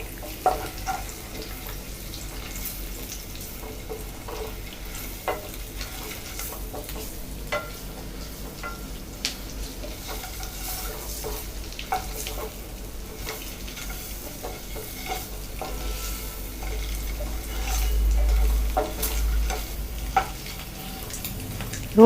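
Eggs frying and roasting in a masala in a pan for an egg masala gravy, with a steady low sizzle and occasional stirring scrapes throughout, no talking.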